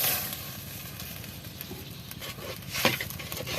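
Pieces of cow head skin drop into spice paste frying in a pan, setting off a steady loud sizzle with scattered pops and stirring scrapes, heard alone.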